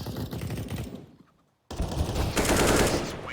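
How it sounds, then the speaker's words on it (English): Rapid automatic AK rifle fire in a competitive tactical shooter match, loud dense bursts broken by a short near-silent gap, then heavier sustained firing. "Robbie's coming straight through it, peeking out the balcony side with the AK"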